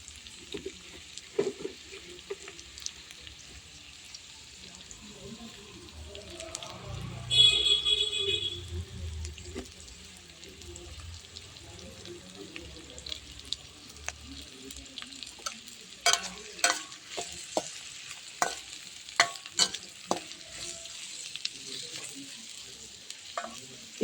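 Ingredients for egg curry softening in oil in a pan, a quiet steady sizzle broken by a louder burst and then a run of stirring clinks and scrapes, with no speech.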